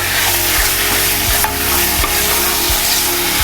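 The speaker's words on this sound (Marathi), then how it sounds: "मोठ्या फ्लेमवर आपल्याला हे मटण छान परतून घ्यायचं आहे" Mutton being sautéed in a pan over a high flame, a loud, steady sizzle of frying with repeated scraping strokes of a spoon stirring through it, no voices.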